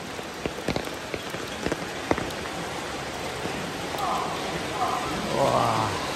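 Rain pours onto a flooded street lined with market stalls, making a steady close patter with a few sharper drop hits, and faint voices rise briefly near the end.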